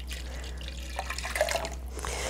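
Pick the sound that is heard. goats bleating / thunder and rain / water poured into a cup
water poured into a cup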